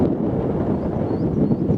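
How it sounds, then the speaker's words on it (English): Steady wind buffeting the microphone, a low continuous rumble with gusty swells and no voices. "Quite windy as well."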